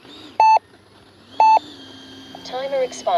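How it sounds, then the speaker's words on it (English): An RC transmitter's timer-expired alarm sounds two loud, evenly spaced electronic beeps, followed by a warbling tone and faint background engine hum, at an outdoor flying session of a Freewing 90mm T-45 Goshawk jet. "Timer expired"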